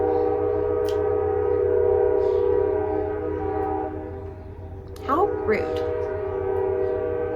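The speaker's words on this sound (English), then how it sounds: "Train." A passing train sounds its horn, a loud sustained tone that shifts pitch as the train goes by over a low rumble, with a brief spoken remark.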